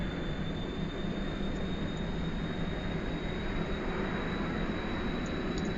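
A small plane's engine roars at full power during a takeoff in the video game Kerbal Space Program, a loud, steady drone with an even, sustained hum and no change in level throughout.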